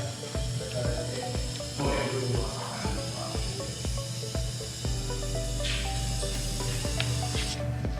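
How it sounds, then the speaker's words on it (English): Liquid spray paint hisses steadily from a nozzle onto an epoxy countertop being given a marble look, a continuous close spray running throughout with a few soft knocks underneath. "we're just gonna spray it in there for a minute"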